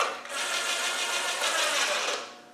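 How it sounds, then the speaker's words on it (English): A battery impact gun runs flywheel housing bolts down on a 2.25 engine, giving a close, steady buzzing whir that holds for about two seconds before trailing off. "we'll just use this gun to whiz them down"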